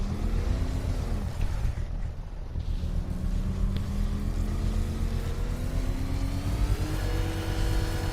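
Engine of a game vehicle accelerating, a continuous droning motor with rising pitch sweeps as it speeds up, loud and steady with no talking.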